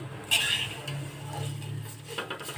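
Vermicelli is stirred as it fries in hot ghee with a few cloves in a pan, giving repeated metallic scrapes and clinks of a spoon over a low, steady sizzle.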